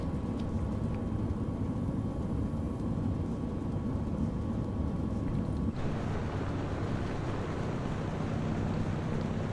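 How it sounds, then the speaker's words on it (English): A DHC-4 Caribou propeller aircraft in Microsoft Flight Simulator runs at about 1000 RPM, giving a steady, continuous low engine drone with propeller blade slap. The tone changes character partway through. "Sounds like it's got that blade slap though at"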